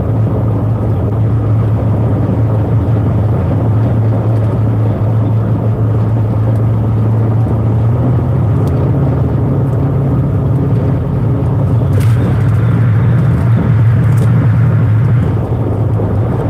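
Road traffic at quitting time drones steadily with a low engine hum, tires and passing vehicles merging into one continuous rumble, plus a few faint sharp clicks near the end.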